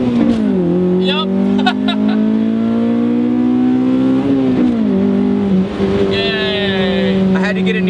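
A Honda car with solid engine mounts revs hard through first, then shifts into second with a sharp drop and climbs again, loud and close inside the cabin, with a voice cutting in near the end.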